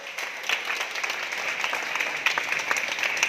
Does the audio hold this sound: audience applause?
yes